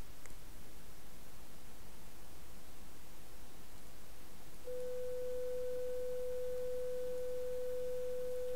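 Steady pure sine-wave tone generated in GNU Radio and played through a speaker, starting partway through and holding constant above a faint hiss of background noise, with no talking.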